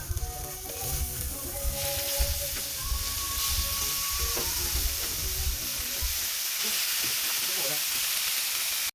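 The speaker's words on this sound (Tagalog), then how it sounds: "Gamitin yung mantika, lagyan na natin yung beef." Beef sizzles loudly and steadily in hot oil in a pan. The hiss is dense and continuous, with faint kitchen clatter and a brief tonal beep partway through.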